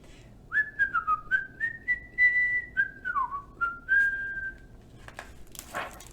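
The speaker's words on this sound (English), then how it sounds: "And he whistled all the way home." Someone whistles a bright, meandering melody of gliding and held notes, fairly soft and close, ending with a faint rustle after the tune stops.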